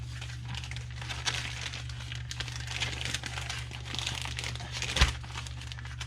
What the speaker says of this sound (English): So we'll just put it in this bag here.